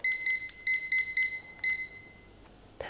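A kitchen timer is set during a marshmallow-making session and gives a run of short, bright electronic beeps in an uneven rhythm, close and clear in a quiet room, ending with a soft click.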